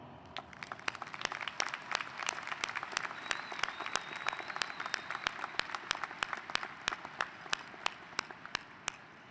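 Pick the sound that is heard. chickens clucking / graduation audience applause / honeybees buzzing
graduation audience applause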